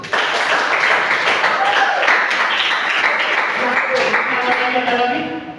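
Audience applause from a seated group, a dense steady wash of many hands clapping that holds for several seconds and thins out at the end.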